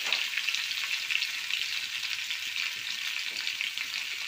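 Potatoes frying in a pan for a home-cooked festival meal, a continuous bright sizzle with stirring, close and steady, no talk.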